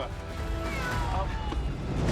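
Cats meow in a small rescue boat during flooding after the Kakhovka dam was blown up. A few short, thin meows rise over a low, steady background rumble, with people's voices close by.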